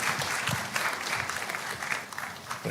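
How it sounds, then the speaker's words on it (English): Steady, dense applause fills a hall at the launch of Ghana's National AI Strategy, a continuous wash of many hands clapping together with no talk over it. "Please put your hands together for him."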